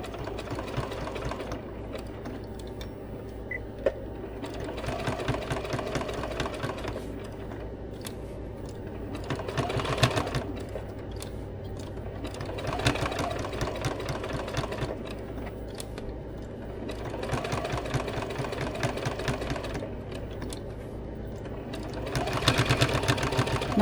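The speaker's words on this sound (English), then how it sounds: "I'm just going to stitch straight around this, stopping ever so bit to turn my fabric." A sewing machine stitches straight around a piece of fabric, running in steady rhythmic bursts that pause briefly between runs as the fabric is turned, fairly quiet and close.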